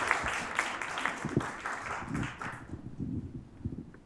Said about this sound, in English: I'd just like to give one more round of applause to everyone who asked questions